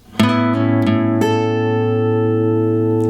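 A short lick on electric guitar from a song's intro, three quick picked notes that ring and sustain into a held chord, clear and close with no voice.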